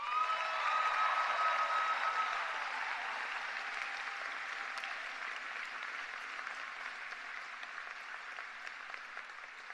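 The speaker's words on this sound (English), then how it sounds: "a thunderous round of applause" School audience at a William T. Dwyer High ceremony giving staff a sustained round of applause, broad steady clapping that swells at first and slowly fades over nearly ten seconds.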